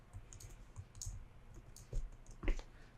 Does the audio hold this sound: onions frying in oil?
no